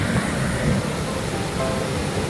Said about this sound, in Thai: โอ้น้ำตกแบบน้ำเยอะมาก น้ำไหลแรงมากค่ะตรงจุดนี้